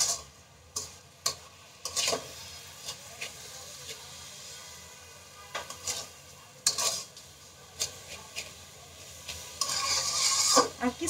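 Vermicelli frying with condensed milk for semai barfi, a spatula scraping and stirring the pan in repeated strokes over a soft steady sizzle, with louder scrapes near the end.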